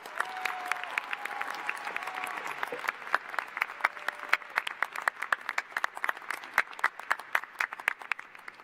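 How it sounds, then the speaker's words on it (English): At a 2022 public policy school convocation ceremony, an audience applauds four PhD graduates, with thick, continuous clapping that thins into scattered individual claps, and faint tonal sounds early on. "Please join me in one final round of applause for our 4 PhD graduates"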